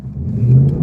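A Mustang GT fitted with a Steeda drag swaybar pulls away, its engine note a loud, rising low rumble that swells steadily through the moment.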